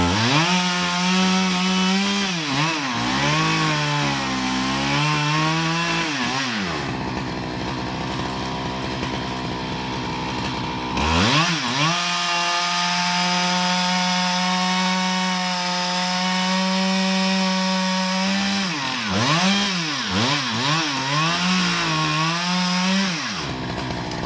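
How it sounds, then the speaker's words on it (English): Husqvarna 395 XPG chainsaw felling a large old tree, engine holding a loud steady roar with pitch rising and dipping as it revs and bogs in the cut, close and continuous with a short idle stretch midway. "When felling a tree with a chainsaw like the Husqvarna 395 XPG,"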